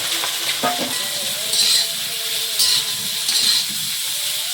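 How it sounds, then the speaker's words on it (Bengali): Potatoes fry in oil in a kadai with burnt ginger, a soft steady sizzle and hiss close by, with occasional utensil clinks and faint background voices. "আর আলুটা এ পাশে কড়াই দিয়েছি, ভাজা হচ্ছে।"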